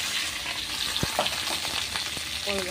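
Onion and potato hit hot oil already crackling with mustard seeds, garlic and chilli, giving a steady close sizzle with a few sharp pops and light stirring scrapes, no voices.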